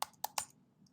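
Computer keyboard typing into a search bar: three sharp, close key clicks in quick succession, then a faint tap, in a quiet room.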